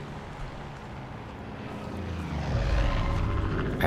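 Propeller airplanes droning overhead in the video game Far Cry 5, a low steady engine rumble that slowly swells louder over a few seconds, with no talk.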